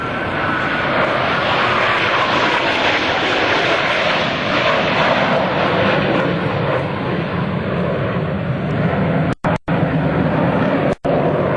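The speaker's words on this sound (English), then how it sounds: "they'll climb straight up into the vertical and shift back into the Blue Angel diamond" US Navy Blue Angels jets climbing straight up in diamond formation at an air show open house, a loud continuous roar of jet engines that fills the whole stretch with a slow swelling wash, briefly cutting out near the end.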